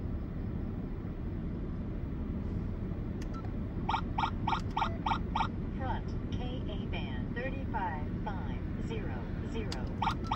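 Rapid electronic chirps and beeps from an Escort Redline 360c radar detector pulse in short bursts, then trail off into faster fading blips over a steady rumble of road noise.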